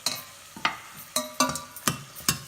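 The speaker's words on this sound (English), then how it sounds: "I'm just going to give it a stir and let it cook" Vegetables, including tomatoes, being stirred in a pan for lentil soup: a series of scraping, clattering strokes in a loose rhythm over a soft sizzle.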